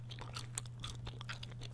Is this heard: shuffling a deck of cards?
no